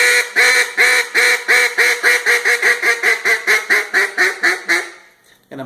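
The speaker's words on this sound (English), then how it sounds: "here's what that sounds like, just a long hail call" A long hail call blown on an acrylic and cocobolo duck call: a loud, close run of about twenty rhythmic quacks, steady at first then tapering and fading at the end.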